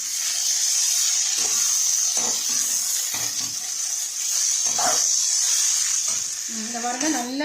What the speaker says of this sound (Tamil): மல்லி இலையை வதக்கிடுவோம்.